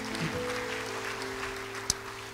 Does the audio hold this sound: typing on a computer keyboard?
no